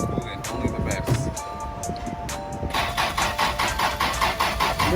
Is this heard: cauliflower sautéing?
no